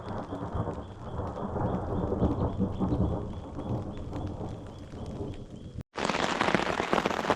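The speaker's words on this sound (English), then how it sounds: "I've just been sleeping here for the last couple of hours and woke up to some rain" Heavy rain pouring down on a camp in the Australian bush, a dense steady patter with low rumbling underneath, briefly cutting out before resuming loud and close.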